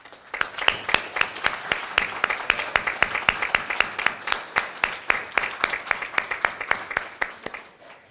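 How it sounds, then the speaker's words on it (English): An audience at a community college GED graduation ceremony applauds, many sharp claps in a quick, fairly regular rhythm that continue steadily for several seconds in a reverberant hall. "let's give them a big round of applause"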